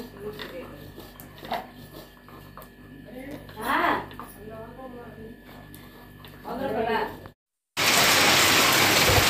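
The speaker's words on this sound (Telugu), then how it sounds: "మా పెరట్లో చూడండి, వర్షం నాన్ స్టాప్గా బాగుతుందబ్బా" Steady heavy rain pours down on a village backyard in a dense hiss, loudest near the end, with voices talking over it earlier on.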